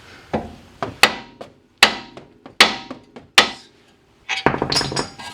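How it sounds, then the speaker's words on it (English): A mallet strikes a power steering rack and pinion part on a 2003-2007 Honda Accord to pop it loose: about six sharp, close metallic knocks at irregular intervals, each ringing briefly, followed by a rapid clattering burst at the end. "we want to hit right there and it should just pop out of there"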